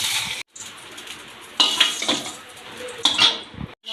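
Green chilies and ginger hit a hot frying pan for a chana and tomato chutney, giving a close sizzle with a few sharp metallic scrapes and clinks of a utensil against the pan.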